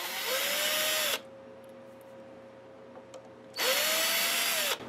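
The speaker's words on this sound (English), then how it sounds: "Look, I'm going to use this drill." A power drill whirs in two short bursts on a Canadian-made Explorer-style electric guitar, with a steady hum and faint ticks in the pause between bursts.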